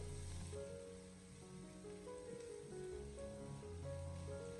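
Ginger, scallion, garlic and chili peppers sizzle in hot oil over low heat while being stir-fried for a mushroom dish, a steady soft crackling hiss with faint clinks, close and fairly quiet, no speech.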